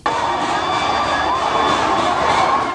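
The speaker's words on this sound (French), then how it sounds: "Ses plus grands succès résonnent sous un tonnerre d'applaudissements." A concert audience at a singer's show roars with dense, continuous cheering and applause that stays loud and steady throughout, a thick wash of many voices and hands with no single sound standing out.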